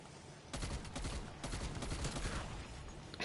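A gun in Call of Duty Cold War Zombies fires in fast automatic bursts, close and loud, starting abruptly and continuing almost unbroken for about three seconds with no talk.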